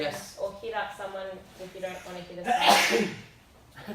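A single sharp sneeze bursts out near the end of a stretch of casual conversation between people, loud and close.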